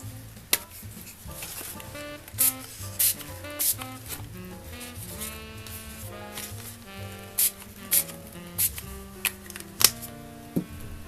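Dye colour sprayed onto paper for tie-dyed paper, with short hissing spray bursts recurring irregularly over a clattering background of handling noises.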